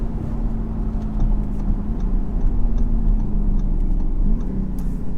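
A 2017 Audi SQ7 twin-turbo diesel heard from inside while driving, a steady low engine drone that rises slightly in pitch as it revs, with light ticking and no talk.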